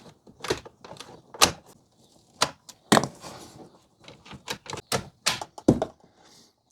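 A series of sharp mechanical clicks and clunks as the outside handle of a Mercedes E-Class W212 rear door is pulled and the latch or lock snaps, in irregular bursts.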